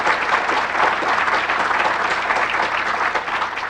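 Loud, continuous applause from a sizable crowd, dense clapping that holds steady throughout.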